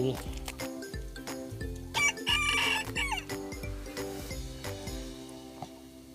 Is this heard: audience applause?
no